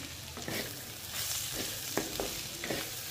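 Water poured into a hot pan of flat bean curry sets off a strong sizzle and bubbling, with a few scraping stirs of a spoon against the pan, close and without talking.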